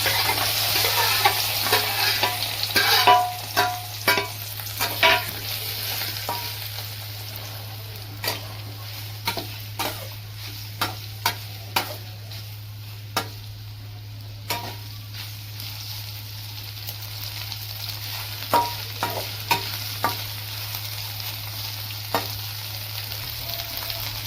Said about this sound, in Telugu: ఇప్పుడు మనము కోసి పెట్టుకున్న గుడ్లని నూనెలో వేయించాలి.